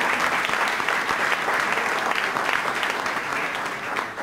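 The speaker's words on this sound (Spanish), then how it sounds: "Otro aplauso también pido para Juan Manuel Olmos" Steady, dense applause from a large crowd at a political forum in Argentina, loud and sustained throughout with no pauses.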